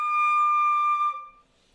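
A single clear, high D on the flute is held steadily for about a second, then fades out, played alone.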